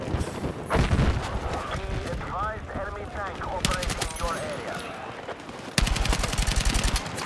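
Fully automatic carbine fire in a shooter game crackles in fast rapid bursts, one early and two longer sustained volleys later, with someone talking over the middle stretch.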